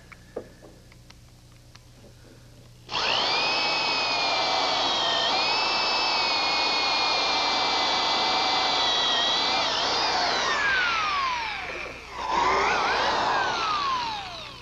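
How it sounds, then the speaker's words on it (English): A power drill with a Forstner bit bores a flat-bottomed counterbore into wood, starting suddenly after a quiet pause with a loud, steady whine. It dips briefly as the bit shifts, then spins up again. "Our counterbore is best made with a Forstner bit, and because of its shape, it cuts a nice flat bottom hole"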